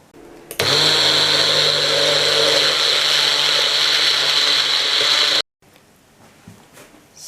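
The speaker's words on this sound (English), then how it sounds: "we're going to put this in the blender again" A blender roars on at high speed, grinding vegan parmesan cheese into powder with a steady whirring grind for about five seconds, then cuts off abruptly, leaving faint rustling behind.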